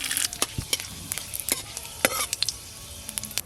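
Five-spice and bay leaves tempering in hot mustard oil in a kadai, bursts of crackling spatter and sharp pops over a light sizzle, close and alone.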